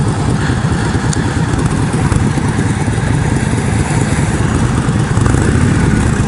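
An Indian Scout motorcycle engine runs loud and steady close by, a continuous buzzing drone that stays even throughout with no talking.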